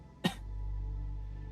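A single sharp, harsh cough from a person, brief and close, followed by a quiet steady background hum.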